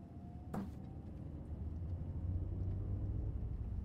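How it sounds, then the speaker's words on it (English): Evening road traffic heard from a bedroom window, a low continuous rumble of passing cars at a distance that swells slightly toward the end, with a brief faint knock early on and no talking. "Well, you can hear the traffic from the bedroom"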